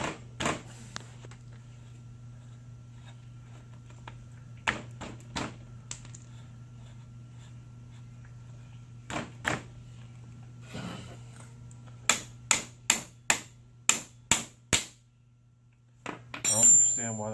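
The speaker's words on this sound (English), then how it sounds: "we're going to reinstall this front bolt" Metal clinks and taps while the front bolt is refitted on a 2007 Honda CRF80 motorcycle, several sharp strikes in a quick run near the end over a steady low hum, with scattered handling knocks earlier.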